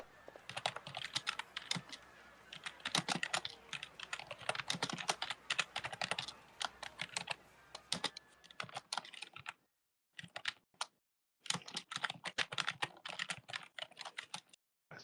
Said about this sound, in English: Some loud typing